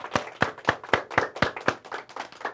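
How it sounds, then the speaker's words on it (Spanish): Rhythmic clapping from a church congregation, about ten sharp, evenly spaced claps in unison, close and distinct, with no talking over them. "Aplauso."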